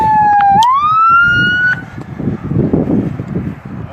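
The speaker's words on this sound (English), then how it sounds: "we've got quite a few police cars coming up the road here" Police cars, sheriff's vehicles among them, come up a blocked road near the Nevada Southern Detention facility, with a loud, close siren wail rising in pitch and holding briefly before cutting off, leaving engine and road rumble beneath.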